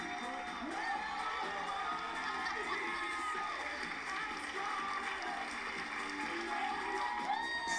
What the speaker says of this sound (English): Everyone's so happy, cheering.